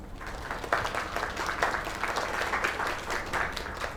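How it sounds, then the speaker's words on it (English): Crowd applause in a scene from the console game Lake on PS5, a lively burst of many hands clapping in an uneven, continuous patter for several seconds. "Another round of applause."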